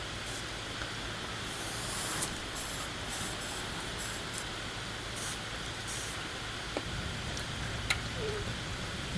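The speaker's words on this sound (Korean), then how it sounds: "그래서 WD를 뿌려줍니다." Spray from an aerosol can of WD-40 lubricant hissing steadily onto a stuck exhaust manifold bolt of a Hyundai Avante XD, a continuous close hiss with a few brief bursts and no talking.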